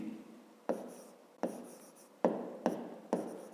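Pen or pencil writing an answer by hand on paper: close, quiet scratchy strokes in five distinct bursts, each starting sharply and then trailing off.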